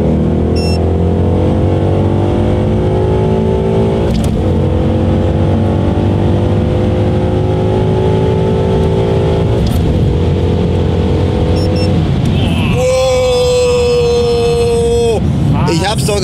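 Ford Mustang 5.0 V8 pulling hard through the gears, a loud steady engine drone rising in pitch over several seconds before a shift, with a sharper high rev near the end and people talking over it.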